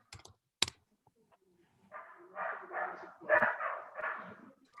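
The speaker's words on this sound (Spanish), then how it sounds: "Hay un perro ladrando por ahí." A dog barks somewhere outdoors in a short burst of four or five barks in quick succession, moderately distant and fairly faint. A few sharp clicks like typing come before the barks.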